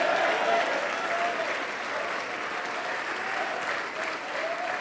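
A crowd at a church worship service claps steadily and loudly for several seconds, a dense continuous wave of applause filling the room.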